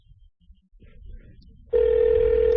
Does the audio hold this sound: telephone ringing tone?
yes